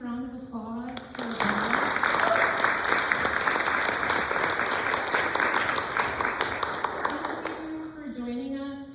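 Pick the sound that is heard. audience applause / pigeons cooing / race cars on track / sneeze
audience applause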